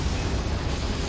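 Confringo fire spell blast from the video game Hogwarts Legacy, a loud, dense fiery burst that rumbles steadily with heavy low-end for about a second.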